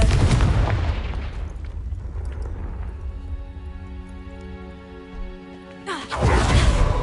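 A Confringo spell blast in the video game Hogwarts Legacy: a loud booming burst with a rushing tail that fades into a ringing tonal hum, then another heavy blast near the end.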